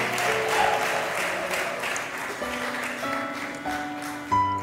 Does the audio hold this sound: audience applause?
yes